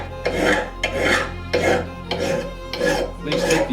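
A rasp files the corners of a wooden hatchet handle's top, producing five or six rhythmic back-and-forth scraping strokes, close and fairly loud.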